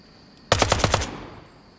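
A short automatic burst of about six rapid gunshots from the video game INCURSION Red River rings out loud and close, then fades out quickly into quiet.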